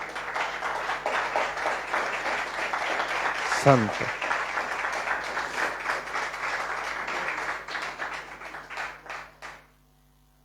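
A church congregation gives a loud, sustained round of applause during a sermon, with a voice speaking over the dense clapping before it tapers off near the end.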